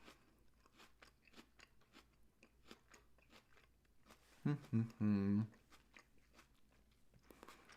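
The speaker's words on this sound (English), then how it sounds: "I'm just going to read some comments while I chew." Someone eating an apple close to the microphone, quiet repeated crunching bites and chewing in a steady rhythm, with a short burst of voice partway through.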